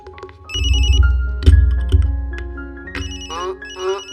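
A phone rings with a loud, melodic electronic ringtone in two bursts, close by in an indoor scene, with voices speaking over it.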